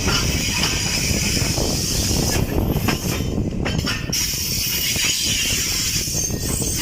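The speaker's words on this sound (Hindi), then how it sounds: "स्लोली अप्रोच करते हुए मेटिंग रेलवे स्टेशन पर 13 अप आवाम एक्सप्रेस" The 13 Up Awam Express rolls slowly into a railway station in extreme heat, a continuous heavy rumble of wheels and carriages with hissing highs, loud and close throughout with no talk.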